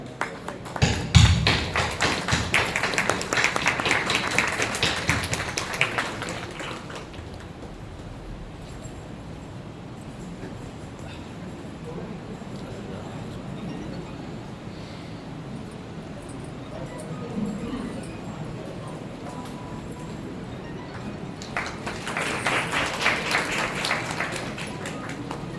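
An audience at a stage function stands and claps to welcome a guest onto the stage, a burst of applause that fades after several seconds and swells again near the end.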